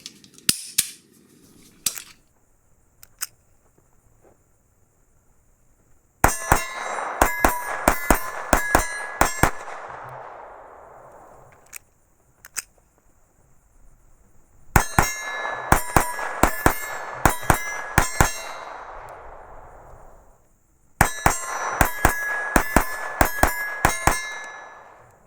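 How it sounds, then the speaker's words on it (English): Sharp metallic clicks and clacks from a Ruger SR-22 .22 pistol being dry fired and cycled, coming close-up in three dense bursts of rapid snaps separated by quieter gaps with a few isolated clicks. "Ruger does say it's okay to dry fire this gun."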